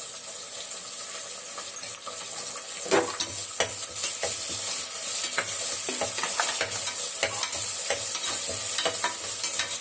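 Chopped onions and tomatoes sauté in a hot pan for mutton head curry, giving a steady loud sizzle with scattered scraping and clinking of a stirring utensil throughout, and no voices.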